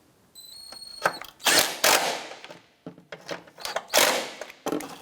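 Bolts being tightened snug during headlight work on a 2004-2008 Acura TL: sharp, clattering bursts of tool noise in irregular spurts with short gaps, close and fairly loud.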